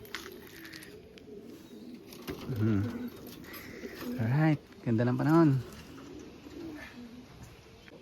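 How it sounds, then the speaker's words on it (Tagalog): Racing pigeons coo at the loft during club training, with several close, throaty bursts in the middle of the clip. Someone speaks briefly and the birds can be heard between his words. "nagbabasket pa rin siya ng mga ibon niya"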